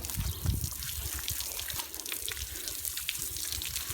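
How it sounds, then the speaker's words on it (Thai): Water pours and splashes over an elderly woman being bathed at home, with a heavier splash at the start followed by steady, close trickling and dribbling. "โอ้ร้อนละมายายอาบน้ำให้เด้อ"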